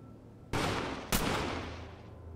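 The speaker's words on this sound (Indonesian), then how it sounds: "Mendengar suara tembakan," Two sharp gunshots in a thriller film scene set in a hospital, loud and close, each followed by a decaying echo tail against low background rumble.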